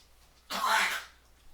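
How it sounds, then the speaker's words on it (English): An old dog coughs once, a short harsh burst lasting about half a second, close by and fairly loud against a quiet background. "That's my dog coughing."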